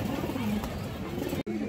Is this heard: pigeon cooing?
yes